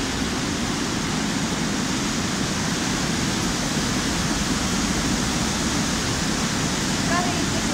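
Loud, steady industrial roar of rushing water and machinery at a water-supply pumping station's reservoirs, a continuous broadband din filling the space without pause.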